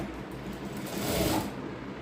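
A sewing machine stitches fabric for ladies' pants, a short steady mechanical whir close by that swells briefly in the middle, with no talking.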